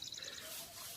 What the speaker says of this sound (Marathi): पाखरं इकडं बोंबलता.